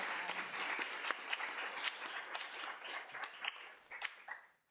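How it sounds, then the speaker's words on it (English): Applause from an audience at a student government meeting of directors' reports, a dense, steady patter of many hands lasting several seconds and tapering off at the end. "we can clap for Cheyenne"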